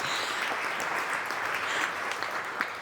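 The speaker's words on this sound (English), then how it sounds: "Just give yourselves a round of applause." An audience at a Chamber of Commerce awards gala claps steadily throughout, a dense, even wash of applause with no single voice standing out.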